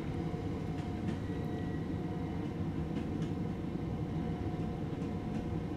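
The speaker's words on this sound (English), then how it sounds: "driving one of these locos." Class 377 electric train running along the East Coastway line in Train Sim World, a steady rumbling roll of wheels and traction hum at an even level with faint rhythmic clicks, no voices.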